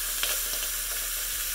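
Food searing in a hot enamel cast iron Dutch oven gives a loud, steady sizzle and hiss, with faint bursts of crackle and no talking.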